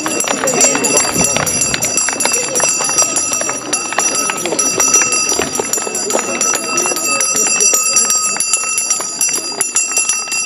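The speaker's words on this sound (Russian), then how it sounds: "Линейка завершилась громким звоном колокольчика, последним звонком в этом учебном году." A school handbell rings loudly and continuously for the last bell of the school year at an outdoor assembly, a bright rapid clanging with crowd noise and shuffling footsteps around it.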